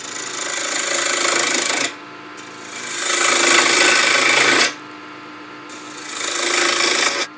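Gouge cutting a small birdhouse ornament on a wood lathe spinning near 1700 rpm, a rough scraping rasp in three sustained passes with short quieter gaps between, close and loud.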